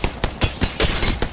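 A quick burst of automatic gunfire in Apex Legends, with about seven evenly spaced, punchy shots fired loud and close in just over a second.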